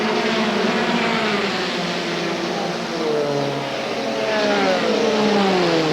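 Busch Series stock cars, including a Buick, racing at Darlington International Raceway in 1993, a continuous loud roar of engines with rising and falling pitch as cars pass close by, steady throughout.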